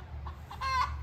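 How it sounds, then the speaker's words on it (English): Backyard chickens cluck their egg song nearby in a garden, a short run of rising clucks building to a louder drawn-out call. "I apologize for the chickens making so much noise over there"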